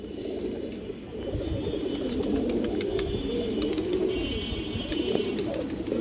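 Pigeons kept at a home loft, including coloured fancy pigeons, make soft low cooing that continues steadily throughout, with a few faint higher chirps in the background.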